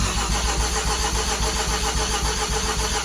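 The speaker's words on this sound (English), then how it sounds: "I'll pop the injector fuses back in and then the car should start up" A Mazda FC RX-7 with a 13B rotary engine fires up and runs, a loud, dense continuous engine roar filling the whole clip at close range, no talking.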